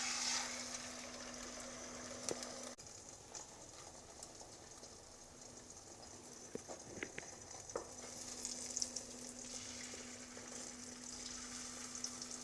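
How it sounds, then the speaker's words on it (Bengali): Beaten egg fries in hot oil in a kadai, a soft, low sizzle running steadily in the background, with a few faint clinks and scrapes from a spatula along the way. "এইভাবে ডিমটাকে কিন্তু ফ্রাই করে নিতে হবে"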